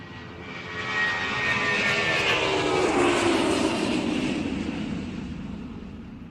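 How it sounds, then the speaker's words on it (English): A jet fighter, a fast military airplane with arrow-shaped wings, roars past as a steady broadband rush that swells in the first second, holds loud, then eases slightly; no talking. "Here is a jet fighter. This is a very fast airplane that is intended for military purposes."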